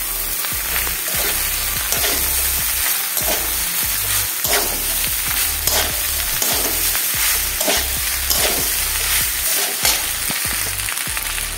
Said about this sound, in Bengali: এবার দিয়ে দিচ্ছি সেদ্ধ করা পাস্তা।